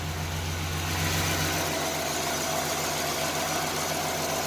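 A Lumina Eurosport with a 3.1 V6 engine idles steadily and smoothly, a constant low hum with a faint higher whine, close by and alone with no talking.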